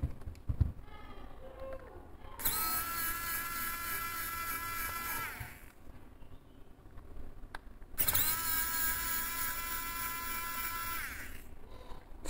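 Bottom screws of an iPhone 14 Pro being removed with a powered driver produce two long, high-pitched whirring buzzes separated by a quieter pause, heard up close.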